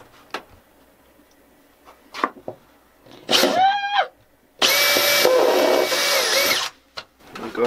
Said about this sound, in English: before I drill the big donkey hole